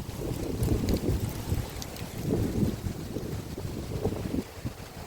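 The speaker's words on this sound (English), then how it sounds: "You can see how windy it's getting." Gusty wind blowing outdoors across a driveway, roaring and buffeting steadily with rumbling surges and microphone wind noise throughout, no voices.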